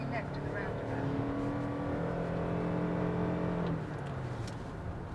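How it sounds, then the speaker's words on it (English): A 2022 Lexus NX hybrid engine whines steadily under load while driving, a sustained droning tone over road noise that holds for several seconds and then eases down. "you still get that whine from the engine under load"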